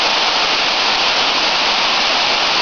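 A continuous, full-bodied rush of falling water from a waterfall, close and loud, unbroken throughout the short stretch.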